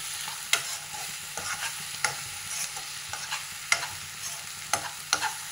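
Mutton keema sautéing in a pan with chili powder, a steady soft sizzle broken by repeated sharp scrapes and knocks of a spoon stirring, close and fairly quiet with no talk.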